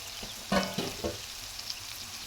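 Egg and capsicum fry in a covered pan, a soft steady sizzle with a few brief clatters of the pan or lid, no voices.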